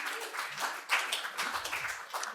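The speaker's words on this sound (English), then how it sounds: "You can applaud normalcy." An audience at a live talk claps in a short burst of applause, a dense patter of hands at moderate distance, fairly faint, with no voices over it.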